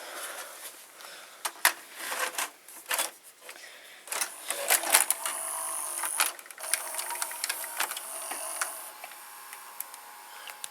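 A videocassette recorder powering up and running its mechanism, giving irregular close clicks, ticks and whirring motor clatter over about ten seconds, with no one talking.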